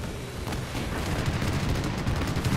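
Aircraft strafing run in the WWII game Gates of Hell, a sustained rumbling roar of rapid cannon and machine-gun impacts, dense and continuous with booming undertones, loud and unbroken throughout.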